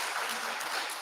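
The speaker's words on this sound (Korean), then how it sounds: "박수 한번 보내주시기 바랍니다" Brief burst of applause from a church congregation at a Sunday service, dense even clapping from many people across a second.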